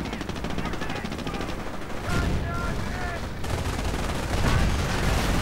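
Machine-gun bursts and explosive blasts from a Company of Heroes 2 battle, with a Firefly tank being destroyed amid smoke, forming a loud continuous wash of rapid fire and rumbling booms.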